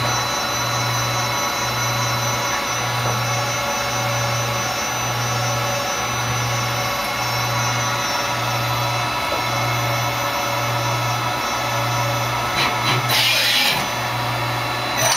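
A Tsugami BS20BII CNC Swiss lathe runs with a steady loud machine whine and hum, its slides moving in a regular pulsing rhythm of about one cycle per second, with a brief burst of hiss near the end.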